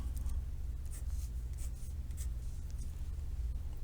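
Handwriting on paper, with faint intermittent pen or marker strokes scratching softly over a steady low hum of room noise, no voices present.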